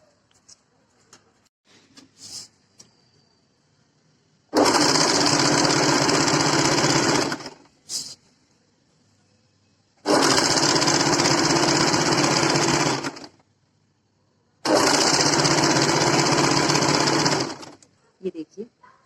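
A sewing machine stitches the shoulder seams of an A-line kurti in three loud, steady bursts of about three seconds each, separated by quiet pauses with faint handling noises.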